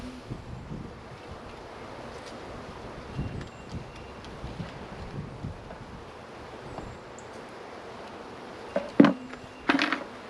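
Honey bees from a newly arrived package being hived on an April day, a steady low buzz of many insects under outdoor wind noise, with a few brief louder knocks and scrapes near the end.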